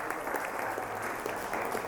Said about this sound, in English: I would like you all to clap for that excellent mridanga playing.